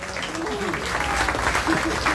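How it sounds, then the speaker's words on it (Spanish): Steady applause from a crowd at a political swearing-in event in Acapulco, dense clapping filling the whole moment at an even level, with a faint voice underneath. "Se vuelven a escuchar esos aplausos para nuestro presidente"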